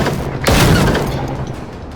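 A rocket explosion in the game Generation Zero, one sudden heavy boom that rolls off into a rumbling decay over a second or so, loud and close with no voices.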